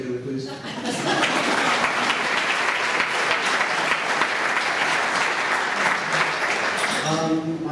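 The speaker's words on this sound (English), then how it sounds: "Can I have a round of applause for my family, please?" Guests at a senior banquet break into sustained, fairly loud applause for a family, a dense steady clatter of clapping with a little laughter mixed in.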